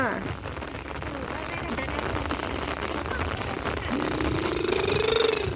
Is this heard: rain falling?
yes